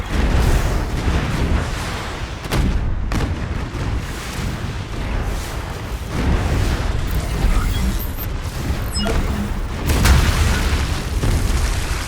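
A nuclear missile strike in Anno 2205 erupts as a loud, sustained rumble of heavy booms and rolling blasts, with sharper detonations punctuating the roar throughout.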